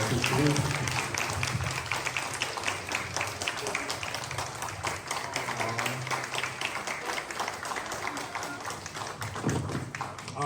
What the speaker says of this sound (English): if we could just get one more round of applause for Mercado.